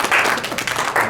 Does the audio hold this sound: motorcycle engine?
no